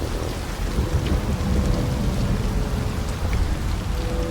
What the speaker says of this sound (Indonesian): Oke, suara hujannya jadi jelas langsung ya.